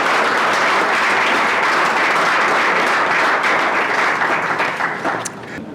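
At a Black History Month event in Salford, an audience applauds a singer after her rendition of a song, a thick, even burst of clapping that holds strongly and then thins out and fades at the very end.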